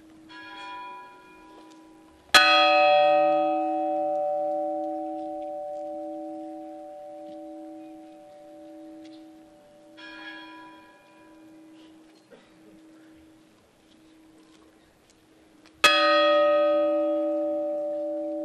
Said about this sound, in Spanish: escuchamos la golondrina, la campana grande de la golondrina